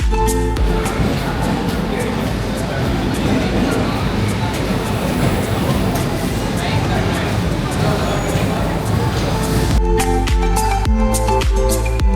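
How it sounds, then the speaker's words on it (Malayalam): A Chennai local suburban train runs with a loud, continuous rumble and rattle heard from inside the carriage, with voices mixed into the noise. "ഇപ്പം ഞാൻ പോകുന്നത് നമ്മുടെ ചെന്നൈ കോർപ്പറേഷൻ്റെ ലോക്കൽ ട്രെയിനിലാണ്"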